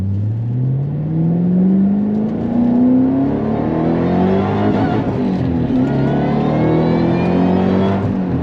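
A Shelby GT500KR engine revs up and climbs quickly in pitch, drops back, then rises again, loud and close with no talking.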